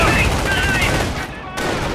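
Rapid gunfire crackles continuously in the Company of Heroes real-time strategy game, dense and loud throughout with a brief dip before the shooting resumes.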